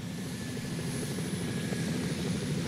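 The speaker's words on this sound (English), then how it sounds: "This is a chopper" A helicopter in The Sims 2 video game, a steady whirring rotor and engine drone heard continuously at moderate level with no voices.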